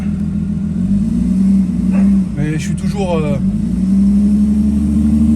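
Audi A6 C5 with the 2.5 V6 engine, suffering a cascade of faults, runs close by in drive with a loud steady low engine drone while someone talks briefly over it.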